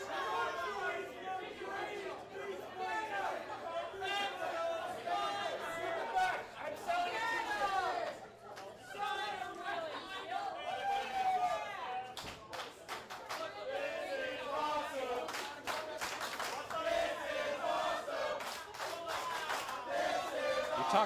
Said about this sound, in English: Talk about how hot the crowd is here at the Red Chevron Club, chanting "This is awesome" before the match even starts